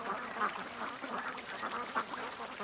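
Ducks by a creek give off repeated quacking calls over steady outdoor background noise, fairly faint and continuous with no speech over them.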